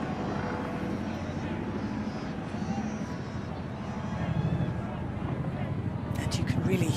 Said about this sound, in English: you can really feel the noise from those helicopters, goes right through you